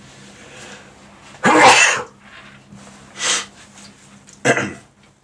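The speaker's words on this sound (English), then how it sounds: "This is my life now, sneezing until about midnight" Three sharp sneezes burst out one after another with quiet breathing between them, the first the loudest and longest.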